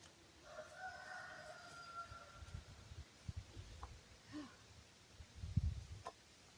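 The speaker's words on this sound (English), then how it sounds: "Here comes the chickens." Chickens out in the yard during a sweet potato harvest, faint clucking and fowl calls scattered through rustling and low outdoor handling noise.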